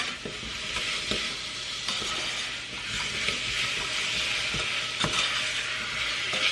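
Apples with cinnamon being stirred in a hot pan, a steady close sizzle with repeated spoon scrapes and clinks against the pan at an irregular pace, no talking.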